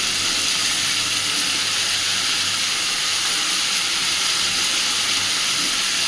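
A paste of mustard, poppy seed and garlic lands in a hot pan while prawn posto is cooked, giving a loud, steady hiss and sizzle that holds without a break.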